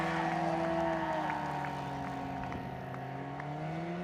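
A Rotax-powered ultralight STOL aircraft at EAA AirVenture takes off with a steady, droning engine note that shifts gradually in pitch, loud and close, with no talking over it.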